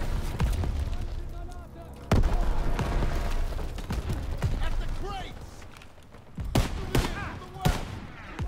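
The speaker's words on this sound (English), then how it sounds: "Lobbing a grenade." A grenade blast and bursts of gunfire from Call of Duty WWII's Operation Cobra mission: a sudden heavy boom, then rolling rifle and machine-gun fire with scattered booms, loud and continuous, with a voice talking over it.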